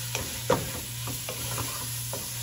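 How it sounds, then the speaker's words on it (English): Steak pieces seasoned with allspice and black pepper sizzle softly in a pan for a few seconds while a utensil gives a handful of light scraping stirs over a steady frying hiss. "I'm going to give these a good stir."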